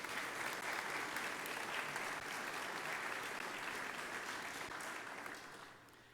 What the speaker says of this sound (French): On applaudit tout ce monde-là, bravo.